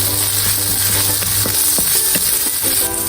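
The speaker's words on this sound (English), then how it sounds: "Stir-frying the seasonings over high heat can quickly stimulate the aroma" Curry leaves and dried chilies stir-fried in oil over high heat, a constant loud sizzle broken by quick clinks and scrapes of the spatula against the pan, close up with no talking.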